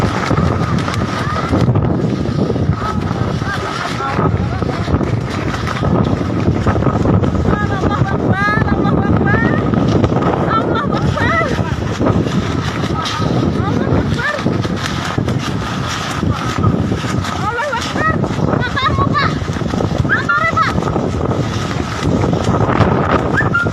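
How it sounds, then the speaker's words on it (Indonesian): Strong wind with heavy rain lashing a tent in Ngawi, East Java, a loud, continuous roar of gusts and buffeting flapping, with voices faintly audible beneath the storm. "Hujan deras disertai angin kencang mengguyur wilayah Kabupaten Ngawi, Jawa Timur"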